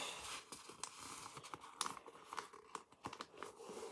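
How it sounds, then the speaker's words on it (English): A sheet of paper is folded in half and creased by hand, giving soft close crinkles and sharp rustling snaps in quick irregular bursts. "fold it in half, right? Crease it, and then fold it again."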